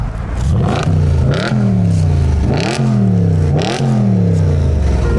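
A non-stock exhaust on a 2013 Audi RS5 4.2 FSI quattro revs hard three or four times, each loud rising roar dropping back to a burbling idle, close by and with no talk.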